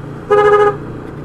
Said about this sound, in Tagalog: okay naman na yung busina.